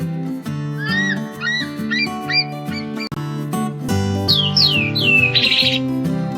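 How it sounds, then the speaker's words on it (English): A string of sharp, descending eagle screeches repeats in quick succession, then a longer shrill cry, all over steady background music. "eagle,"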